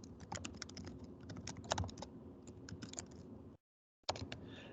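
Rapid irregular keystrokes on a computer keyboard, close and fairly quiet, clattering steadily for several seconds, stopping briefly, then resuming.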